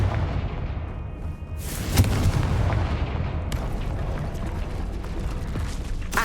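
In the Hogwarts Legacy video game, a Confringo blasting spell erupts in a loud, rumbling boom, followed by a second sharp blast and a sustained crackling roar, close and dense with no talking.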